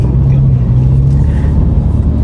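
BMW E90 with an automatic gearbox cruising along, a loud steady low engine and road rumble from inside the cabin with a faint hum, no talking.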